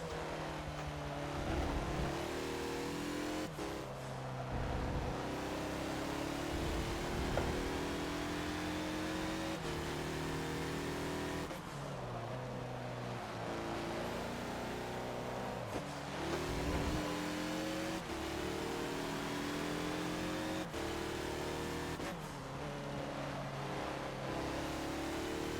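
A 2014 Mazda Lola B12/80 race car in the Forza game laps Mugello, its engine loudly revving up through gears with repeated rising whines, downshift blips and braking dips, continuous and close throughout.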